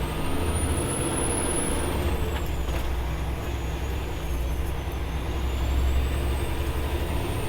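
A 2014 Kenworth W900L truck with a 500 hp Cummins ISX15 engine rumbles steadily while driving, its loud, continuous engine drone shifting slightly as a gear change happens, with a brief air hiss and no talking.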